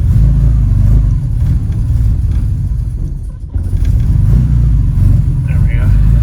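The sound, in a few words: Jaguar XK150 engine starting and running without choke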